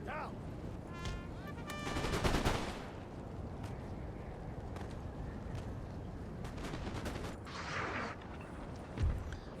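Musket and cannon fire from a Napoleon: Total War battle at Borodino, with a cluster of crackling volleys early on and scattered distant shots over a constant battlefield din, faint overall.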